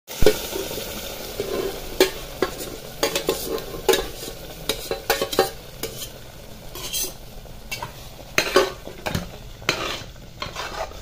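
A spatula scrapes and stirs repeatedly through a tomato tempering and dal frying in a pan, sharp scraping bursts over a constant sizzle, close up with no talking.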